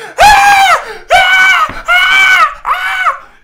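A voice imitating a girl screaming, four drawn-out shrieks in a row, loud and close, the last one shorter.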